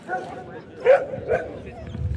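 A nervous rescue dog whimpers and gives short yips in a couple of brief bursts, close by, with people talking around it.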